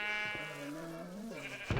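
A Minecraft sheep bleats once in a long, wavering call, fairly close and clear, with a short knock just after it.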